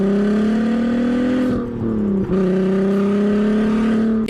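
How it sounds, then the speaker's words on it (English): An abandoned Audi V6 runs close and loud on its own, holding a steady, throaty engine note that dips briefly mid-way before settling back to an even drone. "My first ever V6 and my first ever Audi. I mean, listen to this thing."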